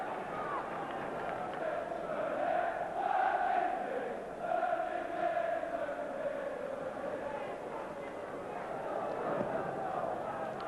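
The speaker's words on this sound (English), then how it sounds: "It was nice there to hear the crowd singing Mervyn Day's name." A Leeds football stadium crowd in 1989-90 sings a goalkeeper's name, a massed, distant chant rising and falling in long drawn notes over general crowd noise.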